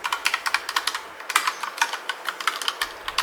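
Rapid typing on a Bluetooth keyboard paired with a Bigme B7 color E-Ink tablet, a steady run of crisp, close key clicks with brief pauses and no talking.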